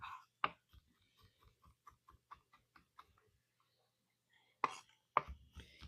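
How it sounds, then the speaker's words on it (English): A knife chops garlic and herbs fine on a board for pumpkin tortellini soup, quick faint taps in an irregular run, then a pause before a few sharper, louder strikes. "So we're going to mince these guys up."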